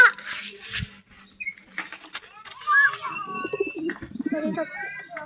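Pigeons coo in soft, throaty bursts close by, mixed with rustling and wing patter while people talk nearby.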